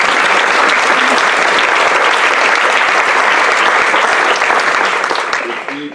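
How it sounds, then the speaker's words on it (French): A large conference audience applauds its speakers with sustained, dense clapping that holds steady for several seconds before beginning to fade. "on doit remercier par des applaudissements nourris nos orateurs"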